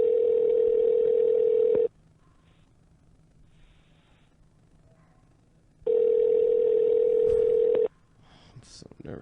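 An outgoing phone call rings on a cell phone, giving two loud steady ring tones about two seconds each, separated by a four-second quiet gap, with faint rustling and a soft breath near the end.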